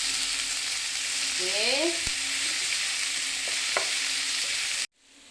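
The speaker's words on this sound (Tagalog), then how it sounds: "Now we will add our papaya." Papaya is added to a hot pan and stirred, giving a steady close sizzle of frying with a few scraping stirs before the sound cuts off; a voice speaks briefly.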